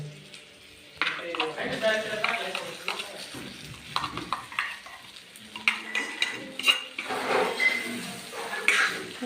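Ground masala paste for Khandeshi brinjal sizzles and fries in a pan while a utensil scrapes and stirs repeatedly, close up, with a voice talking over it.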